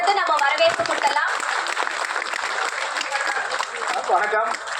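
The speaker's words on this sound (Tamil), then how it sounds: "அரங்கம் நிறைந்த ஒரு பலத்த கைத்தட்டல் கொடுத்து நம்ம வரவேற்பு கொடுக்கலாம்." Audience applause in a packed hall at a Tamil film association event, a dense clapping wash running several seconds with a voice speaking over it.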